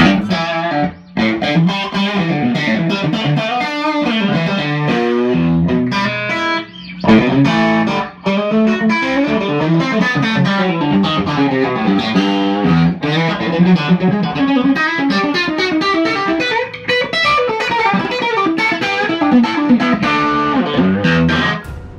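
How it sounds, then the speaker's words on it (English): An electric guitar plays through heavy distortion with the amp's master volume turned fully up, a loud, dense run of sustained driven chords and notes with only brief breaks. "if you turn up the master all the way, it should keep the same level of distortion"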